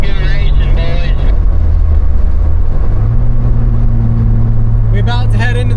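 Engines roar with rising pitch as cars accelerate on a road in Orange, Virginia, loud and close, with voices shouting over the motor noise at the start and end.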